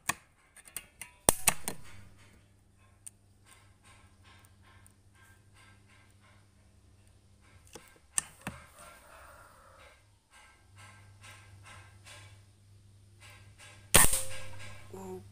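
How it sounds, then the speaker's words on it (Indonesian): Air rifle shots at a target during a pellet grouping test, with sharp cracks near the start, one at about eight seconds and another near the end, and quieter handling clicks and a dog barking in between. "tembakan ke-6."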